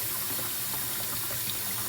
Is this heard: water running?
yes